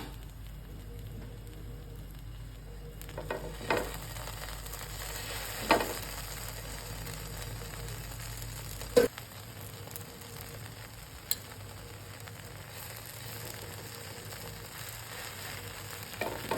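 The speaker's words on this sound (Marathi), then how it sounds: "आता छान मस्त असे पाव गरम करून घेऊया आपण" Pav bread warming in oil on a flat pan gives a soft, steady sizzle and crackle, fairly quiet and close, with a few faint clicks and knocks scattered throughout.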